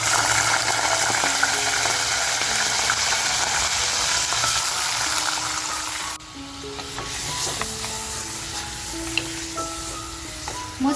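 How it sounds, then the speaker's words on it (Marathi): Mutton pieces fry in hot oil, giving a dense steady sizzle at close range that drops suddenly about halfway, then continues as a softer bubbling hiss with light stirring scrapes. "आता जे मटण घेतलंय ना ते मटण ह्या तेलामध्ये आपल्याला फ्राय करून घ्यायचंय"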